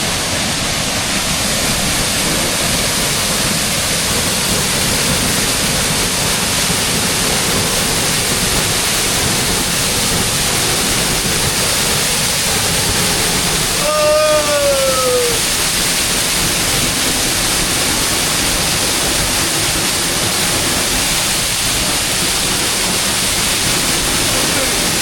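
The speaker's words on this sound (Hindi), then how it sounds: "अब मैं जा रहा हूँ नहाने वाटरफॉल में" A Himalayan village waterfall roars as dense, loud, continuous rushing water with someone bathing beneath it, and a brief voice cuts through the steady wash midway.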